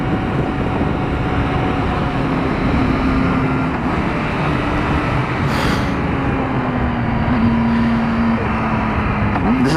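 A 2016 Triumph Speed Triple R motorcycle engine hums steadily while riding, with a low, fairly even drone and shifting pitch under heavy wind rush over the whole stretch.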